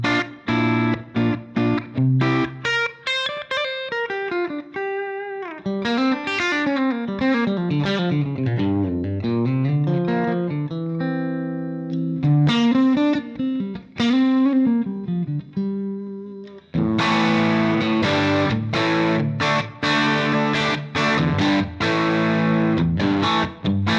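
Distorted electric guitar through a cranked Fender Super Reverb amp model on a Fractal Axe-Fx plays single-note runs and bends, then shifts to heavier chugging chords, loud and close with a saturated amp tone and no talking.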